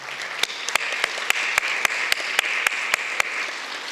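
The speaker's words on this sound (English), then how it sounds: "Let's give them a round of applause." Audience applause at a city-wide art show opening ceremony, a steady wash of many hands clapping at moderate volume with sharp individual claps standing out at regular intervals, no talk over it.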